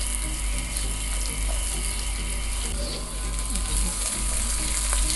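Onions frying in a pan for chicken jalfrezi, a constant dense sizzle mixed with rattling, ratchet-like clicks from stirring, steady and close with a low hum underneath.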